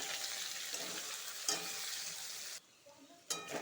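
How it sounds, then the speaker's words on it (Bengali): Onion frying in a pan with garlic, green chilli and ginger being stirred in, a dense bright sizzle with stirring scrapes that drops out briefly near the end before sizzling resumes. "এটা দিয়ে ভালো করে আবার লাল লাল করে ভাজবো"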